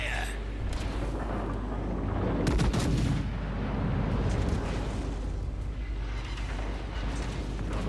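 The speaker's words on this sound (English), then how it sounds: "He takes a torpedo hit." A torpedo strikes a warship in a naval battle game: a heavy, booming impact rises out of constant gunfire and rumbling battle noise, with a voice briefly audible over the din.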